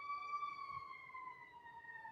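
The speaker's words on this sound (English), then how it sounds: "I'm sorry about the siren in the background" A wailing emergency siren sweeps steadily in the background of an urban neighborhood, a continuous rising and falling tone at moderate distance with faint low rumble beneath.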